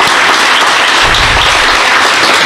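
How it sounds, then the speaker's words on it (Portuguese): Loud, dense applause from a lecture audience fills the whole stretch, steady clapping from many hands with no voices on top. "uma salva de palmas para vocês"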